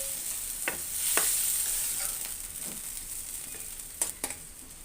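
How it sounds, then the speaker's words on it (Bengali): Dried lotte fish (shutki) sizzling softly in a pan, a quiet even crackle broken by a few sharp clicks and scrapes of stirring, close by and without speech. "শুটকিগুলো আমি একসাথে ভেজে নিয়েছি, ভাজাটা হয়ে আসছে।"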